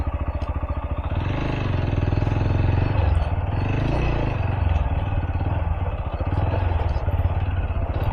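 A motorcycle engine rumbles continuously up close, its pitch rising and falling slightly as it rides, with a rough, throbbing tone and no talking.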